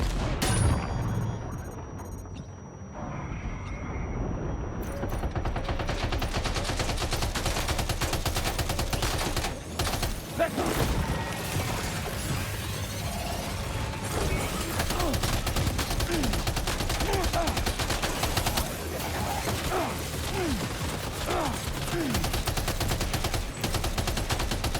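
Sustained machine gun fire in the video game Death Stranding 2, dense rapid bursts with booming impacts running almost continuously at a steady loud level, with a brief quieter moment near the start.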